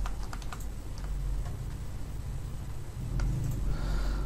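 A mobile number is typed on a computer keyboard: a quick run of close, crisp key clicks in uneven bursts over a low background hum, with no talking.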